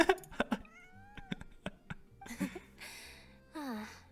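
A cat in a video game meows several times in short, rising and falling calls, fairly close and clear, with brief gaps between them and some louder drawn-out cries near the end.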